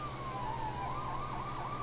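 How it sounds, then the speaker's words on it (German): A wailing police car siren in the video game LEGO City Undercover, steady and prominent, rising and falling over a constant engine hum, with no talk. "Ja, da ist noch ein Polizeiauto, oder?"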